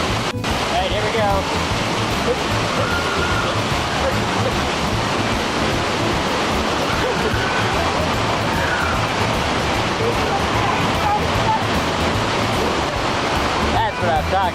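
A powerful waterfall roars from up close behind the falling curtain of water, a dense, steady rush that stays loud for the whole stretch, with voices faint under it.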